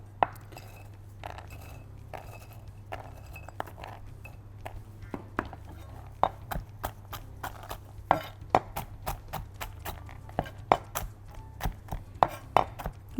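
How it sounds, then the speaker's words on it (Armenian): A knife chops walnuts on a cutting board in a home kitchen, sparse knocks at first, then quickening into a rapid, sharp, close rhythm of crisp taps. "Ընկույզն ենք կտրատելու"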